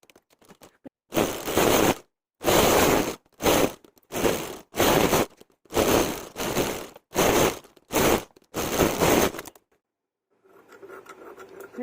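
Sewing machine running in a series of about nine short bursts, stitching a blouse's lining to the main fabric, each run a second or so with brief pauses between, close and steady, ending in quieter handling noise.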